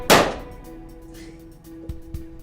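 A gunshot sound effect played on a live talk show, one loud sharp bang at the start that quickly decays, followed by a low steady hum and a couple of faint knocks.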